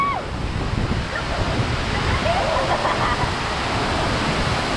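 Angel Falls in Canaima thunders as a constant heavy roar of falling water up close, broad and unbroken, with faint voices barely emerging over the rush.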